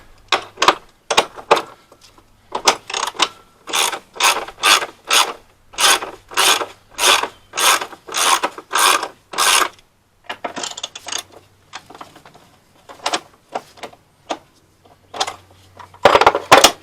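A ratchet undoes 13 mm bolts during Vauxhall Astra engine removal, a string of loud, close, rhythmic rasping clicks in regular strokes, pausing briefly before resuming in faster bursts.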